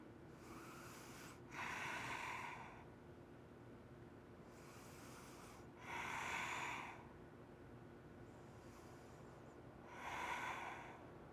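Slow, audible breaths taken while holding yoga bridge pose, three long soft exhalations spaced about four seconds apart, close and quiet over a faint steady background hum.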